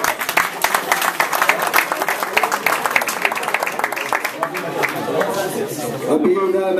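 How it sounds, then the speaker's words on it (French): Audience applause in a hall during a religious community celebration in Lyon, steady clapping mixed with crowd chatter that thins toward the end as voices take over. "donc je demanderai de l'applaudir"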